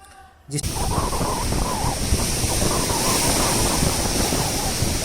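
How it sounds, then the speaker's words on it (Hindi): Clean ocean surf rises and breaks close by in a continuous rushing roar, with heavy wind buffeting the microphone after a short quiet start. "लहर लगातार उठ रही है, फिर वो समुद्र में समा जा रही है"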